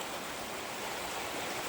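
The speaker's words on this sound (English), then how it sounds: "No bridge at all anymore. Just a river or a creek." A forest creek or river with no bridge over it flows in a steady, unbroken rushing wash, close and even throughout.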